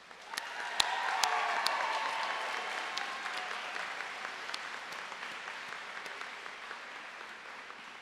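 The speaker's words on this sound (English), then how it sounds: "Let's give them a big round of applause as well" Applause from an audience at a 2019 Rowan University commencement for the College of Science & Mathematics, swelling quickly into a dense, steady wash of clapping that carries on for several seconds before slowly thinning out.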